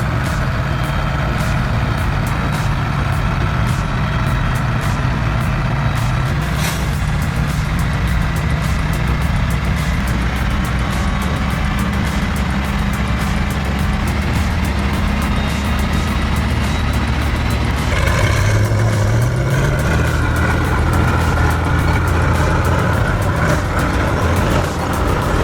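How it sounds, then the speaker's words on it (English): Two giant off-road tractor trucks run their engines in a continuous loud, low rumble and drone that holds steady throughout, with a surge of deeper revving near the end. "The roar of the engines tore through the silence."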